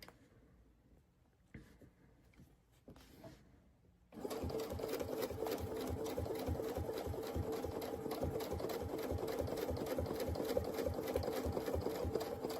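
After a few soft handling bumps, a sewing machine starts up and runs steadily, its needle chattering in a fast, even rhythm while stitching free-motion quilting guided by a ruler template.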